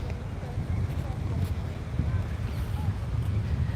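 Wind buffeting the microphone on a beach at Alcudia, Mallorca, a steady low rumbling roar throughout with faint background sounds.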